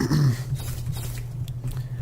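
Dogs growl in the video game Wolfenstein: The Old Blood, a low, rough rumble that stays close and steady for about two seconds with no talking.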